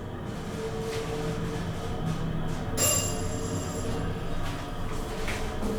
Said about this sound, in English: I think it's a Montgomery according to the chime.